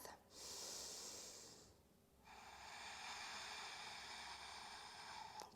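Soft, close breathing during a yoga lunge pose: an airy breath, a short pause, then a longer steady hissing exhale, faint and without speech.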